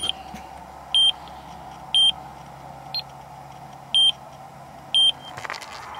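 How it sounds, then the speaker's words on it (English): A GPS timer's beeper sounds short, sharp electronic beeps once per second, five evenly spaced tones over a low outdoor background hum, with a passing car rumbling near the end. "so that beeps once every second."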